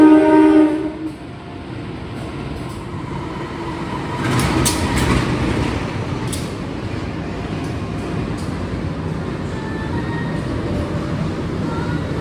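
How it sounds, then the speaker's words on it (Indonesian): The Matarmaja economy train passes another economy train on the line, a loud rumbling roll of wheels and carriages with a short horn blast at the start and steady clattering rail noise after. "Pertemuan dua kereta ekonomi"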